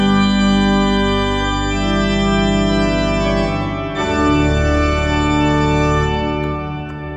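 Church pipe organ playing sustained chords on a plenum with the Rohrpommer 16' added for extra bass depth, full and loud, with a chord change partway through and a gradual release at the end, no talking.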